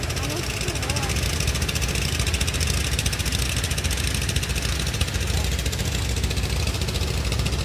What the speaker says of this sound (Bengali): ও ট্রলার, জাহাজ না।